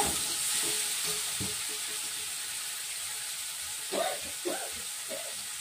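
Chicken pieces for chicken masala fry in a pan with a steady low sizzle, and a few soft stirring scrapes come near the end.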